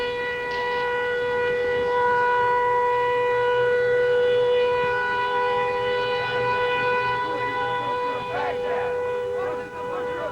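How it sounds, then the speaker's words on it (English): Air raid siren wailing in Saudi Arabia during the Gulf War, a loud sustained multi-tone howl holding steady throughout, with a voice talking underneath. "there was an air raid siren that went off in Saudi Arabia"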